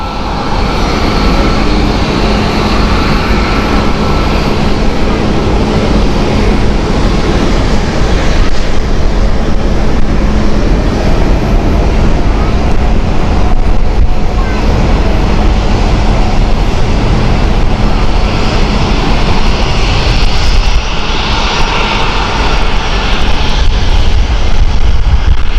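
A TUI Boeing 737 MAX jet at Amsterdam Schiphol gives a loud, steady broadband engine roar that holds for the whole stretch, with no voices over it.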